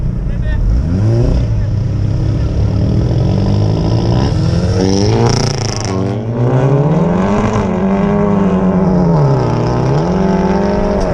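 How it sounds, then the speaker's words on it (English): A Hyundai i30N and an Audi S3 race side by side, engines revving hard and climbing through gears in loud rising and falling waves, close by. A voice talks over part of the run. "we've got I think an i30N, I'm not actually sure what that is, against an S3, so this is going to hopefully be a good race"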